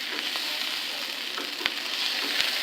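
Onion and garlic frying in a pan, a close steady sizzle with a couple of sharp clicks from stirring utensils.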